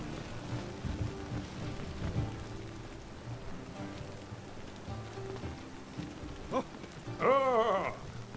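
Steady rain falls in The Witcher 3, a continuous hiss of drops on surfaces under rolling low rumbles, ending in a louder crack and roll of thunder near the close; no one speaks.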